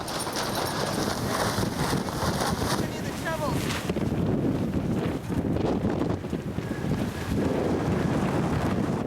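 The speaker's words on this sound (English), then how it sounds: "60-mile-an-hour gusts lashed the camp through the night" Strong 60-mile-an-hour Arctic wind gusts roar steadily across the microphone at a tent camp overnight, buffeting heavily throughout without a break.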